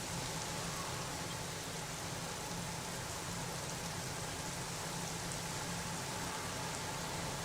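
Steady, even rain hiss in the Tour de France 26 cycling video game, a constant broadband wash with a low hum beneath it, holding at the same level throughout with no voices.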